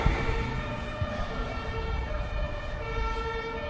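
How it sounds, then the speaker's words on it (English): Emergency vehicle sirens wail steadily through dense Berlin city traffic noise, layered tones holding across the whole stretch with a continuous low rumble beneath. "Permanent sirens."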